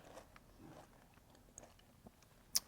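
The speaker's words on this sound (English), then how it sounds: "Delicious. Hear that crunch." A crunchy chocolate truffle is bitten and chewed close up, giving several faint, brief crunches and soft chewing sounds with one sharper crack near the end, and no talking.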